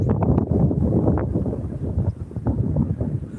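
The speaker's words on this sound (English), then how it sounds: "it's really windy" Strong gusts buffet the microphone at an elevated park, a loud, close, rumbling wind roar that swells and dips unevenly throughout.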